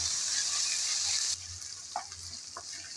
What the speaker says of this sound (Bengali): নেড়ে চেড়ে আদা রসুনটা ভেজে নিতে হবে